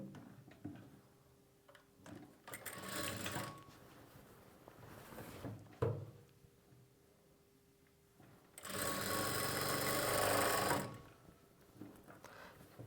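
A sewing machine stitches an invisible zip in two bursts of whirring, a shorter run early on and a longer, louder one near the end, with quiet handling sounds between them.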